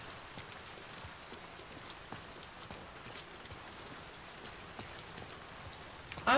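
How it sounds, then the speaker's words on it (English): Rain falls steadily in The Last of Us Part II, a soft, even hiss of drops pattering on surfaces, faint and constant with no talking. "I love rain sounds."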